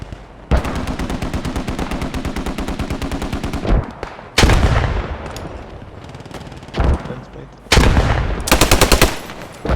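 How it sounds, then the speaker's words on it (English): Sustained machine-gun bursts passing overhead in the video game Post Scriptum, rapid rhythmic rounds in several long loud strings with brief gaps and a heavy thump between. "someone's firing over my head"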